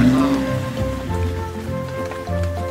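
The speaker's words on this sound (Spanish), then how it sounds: "Los robots están en la camioneta, resguardándose de la lluvia." Steady cartoon rain pours down on a farm while robot vehicles shelter inside a pickup truck, a continuous close hiss of falling water with no talk over it.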